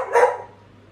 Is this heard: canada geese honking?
no